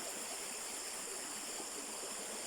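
Creek water flows steadily in a broad, continuous rush through a Filipino cornfield area, a constant mid-distance babble with no talk over it.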